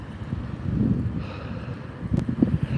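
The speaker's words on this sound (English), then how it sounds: "The wind just makes it terrible." Steady wind gusts and rumbles past the microphone during a wet midday bike ride on an old Schwinn in Las Vegas, a low continuous buffeting with faint rustling and no talk.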